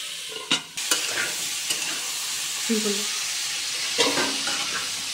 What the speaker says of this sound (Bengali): ভালো করে ভাজা ভাজা হয়ে এসছে